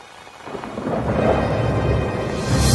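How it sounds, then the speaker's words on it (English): Heavy rain pours steadily in a storm, with rumbling thunder and gusting wind building from a quieter start to a loud, dense wash that swells again at the end. "the rain fell harder, and the wind blew in big, purple gusts"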